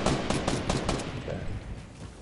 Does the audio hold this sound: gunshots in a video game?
yes